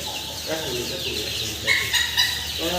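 Fancy chickens on a farm holding over two hundred birds cluck and call in a steady, busy chorus nearby, with a few sharper louder calls standing out.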